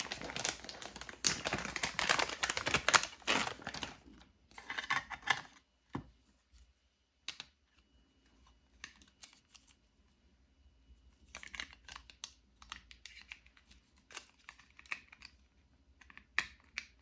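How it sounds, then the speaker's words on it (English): Refilling a plastic tape runner adhesive dispenser at a card-making desk, with quiet dense clicking and crinkling for several seconds, a pause, then softer scattered plastic clicks and snaps. "Get a refill here for my tape runner."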